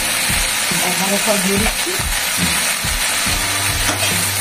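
Green chili with cumin and coriander powder frying in a pan for a vegetarian thali, a lively sizzle broken by stirring scrapes, with someone talking over it.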